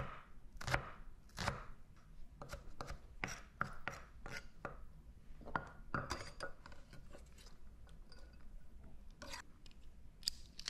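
A knife chops shallots on a cutting board in a quiet kitchen, making a series of sharp, irregular taps at close range.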